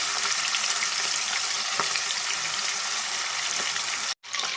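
Chicken legs fry in a pan with a loud, steady sizzle and crackle that runs unbroken, cutting out briefly near the end.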